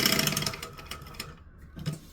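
A sewing machine back stitching through fabric, with a quick, close run of ticking needle strokes that stops abruptly partway through, followed by quiet.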